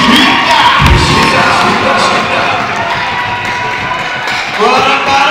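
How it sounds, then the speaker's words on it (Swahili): Guests at a traditional wedding clap and cheer, a loud, dense crowd roar with shouts and whoops rising and falling continuously throughout. "Pigeni kwanza makofi. Pigia Yesu makofi."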